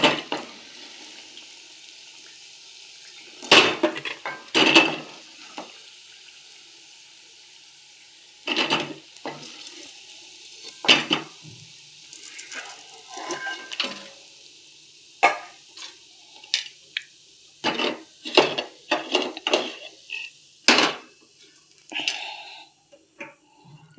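Vegetables fry in a pan, and the quiet sizzle is broken by scattered bursts of scraping and clattering as the pieces are turned, some bursts sharp and others softer, alone without voices.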